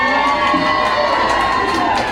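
A lively crowd at a film festival announcement cheers and shouts continuously, loud and close, with high-pitched whoops throughout.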